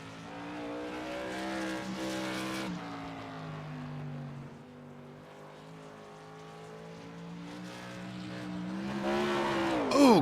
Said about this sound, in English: Johnny Evans in the number 14 out on track, coming around turns 3 and 4